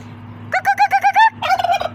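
A turkey gobbles in a rapid burst of repeated throaty notes, loud and close, followed by a second rougher gobbling call, with a steady low hum running underneath.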